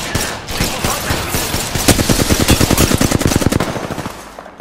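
Rapid automatic gunfire rings out in the video game Apex Legends, a loud sustained burst of closely spaced shots with no voices over it.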